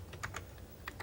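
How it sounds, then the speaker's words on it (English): Quick typing on a computer keyboard, a short run of light key clicks in uneven rhythm, faint and close, with no voices. "I could start just typing some text"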